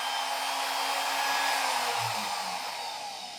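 A MicroLux flex shaft machine motor runs with a steady, smooth, high whirring hum, close and even throughout, with no speech over it.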